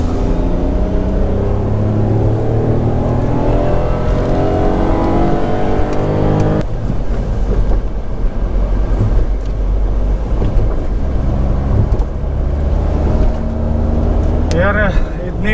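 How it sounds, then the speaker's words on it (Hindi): Naturally aspirated engine of a compact SUV, a loud sustained drone that rises in pitch as it revs and then settles into a steady cruising hum, with a brief squeal near the end. "जो नेचुरली एस्पिरेटेड इंजन का जो ग्रंट होता है ना, मज़ा आता है उसको सुनने में"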